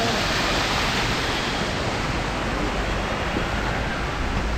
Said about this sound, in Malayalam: ഇത് ചെറിയ വെള്ളച്ചാട്ടം നമ്മൾ വരുന്ന വഴിക്ക് കാണാം